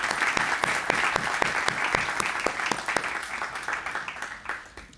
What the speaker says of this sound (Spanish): pido para él un caluroso aplauso